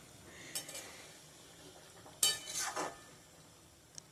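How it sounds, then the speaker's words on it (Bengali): Ghee being stirred into a cauliflower and potato curry in a pan, with a faint sizzle beneath a few scraping, clinking strokes of a spoon against the pan, and no talking. "ঘিটা দিয়ে ভালো করে ঘেটে নিলাম মানে মিশিয়ে দিলাম"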